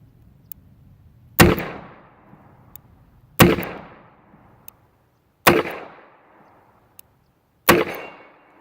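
Smith & Wesson Model 10 .38 Special revolver firing four separate shots about two seconds apart, each a sharp loud crack with a short decaying echo, quiet between shots.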